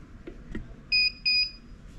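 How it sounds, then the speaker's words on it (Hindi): A T-shirt heat press machine, heated to 330, gives two short, clear high electronic beeps in quick succession over a quiet room background. "अभी हमारी मशीन आवाज़ करने लगी है"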